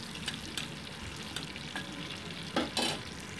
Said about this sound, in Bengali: এবার দিয়ে দিচ্ছি গাজরের টুকরোগুলো তেলের উপরে। গাজরের টুকরোগুলোকে আমি হালকা ভেজে তুলে রাখছি।